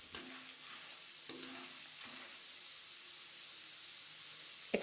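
Roasted chickpeas cooking in a pan for poha give a quiet, steady sizzle with faint stirring clicks and a couple of sharp taps from a utensil against the pan.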